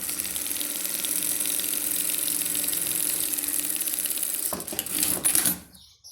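Sewing machine stitching the bottom of a trapezoid-cut fabric bag, a steady fast mechanical whir running continuously close by, then a brief burst of clatter and handling as it stops.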